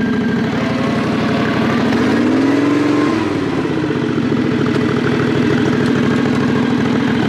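A loud, steady engine drone comes from a vehicle pulling in first gear with a Peerless 2300 locked differential. Its pitch rises and dips around the middle as it runs close to the microphone, with no talking.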